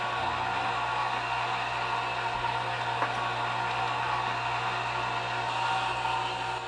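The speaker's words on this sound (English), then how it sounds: "this is actually an Italian meat grinder" Italian meat grinder running indoors, a steady whirring motor hum with a faint hiss, continuous and even throughout with one small click.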